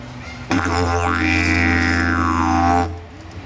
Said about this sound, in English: If you do that correctly, you get the basic droning sound